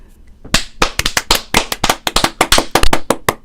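Hands clap in a quick, uneven burst of sharp, close, loud claps from a small group, starting after a brief quiet moment and continuing steadily to the end.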